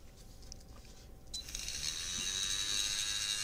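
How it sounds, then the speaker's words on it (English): A small motor directly driving an impeller starts up and settles into a steady high whir, its tone rising as it spins up, close and moderately loud with no talking. "here's the impeller just connected directly to the motor. So you can see how it runs."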